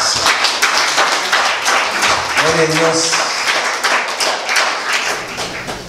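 Guests at a quinceañera giving loud, close, continuous applause that fills the whole stretch, with a voice briefly speaking over the clapping.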